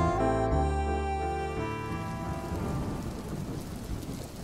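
Heavy rain and a rumbling thunderclap serve as a sound effect in a Vietnamese radio drama. The thunder rolls first, then steady rain hisses on its own.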